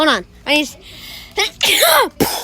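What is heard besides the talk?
sneeze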